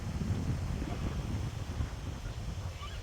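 Wind rumbles steadily against the microphone in a low, continuous buffeting, with nothing else standing out.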